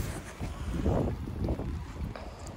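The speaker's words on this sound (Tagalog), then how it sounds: "Ay, mahangin." Wind gusts outdoors at a spring sakura festival in Japan, a low rumbling buffeting on the microphone that rises and falls for a few seconds with no clear voices.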